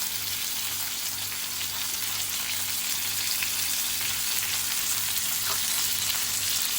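Fish frying in oil in a pan over medium heat, a dense, steady sizzle that holds evenly with a faint low rhythmic hum underneath and no talk.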